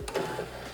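An embroidery sewing machine starts to stitch, giving a short mechanical whir and a couple of soft clicks, faint and close, with no voices.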